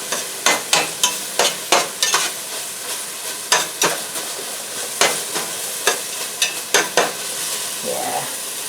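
Frozen onions frying in a pan for a Japanese chicken curry, stirred in a run of sharp, rhythmic scraping strokes over a constant sizzle, close and clear, with the stirring pausing near the end.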